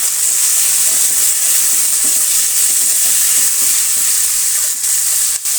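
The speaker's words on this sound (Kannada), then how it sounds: "ಇವಾಗ ಅದರ ಜೊತೆಗೆ ನಾನು ಒಂದು 2 ಟೊಮೆಟೊ ಕಟ್ ಮಾಡ್ಕೊಂಡಿರೋದನ್ನು ಸೇರಿಸ್ತಾ ಇದ್ದೀನಿ. ಆ 2 ಟೊಮೆಟೊ ಕೂಡ ಫ್ರೈ ಆಗಲಿ." Chopped tomatoes frying in hot oil in a pan for bread upma, a loud, steady close-up sizzle with a few soft stirring knocks and no speech.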